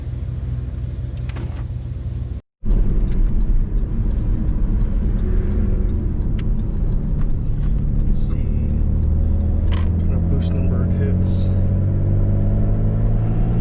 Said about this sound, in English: we'll find out when I do a second gear pull here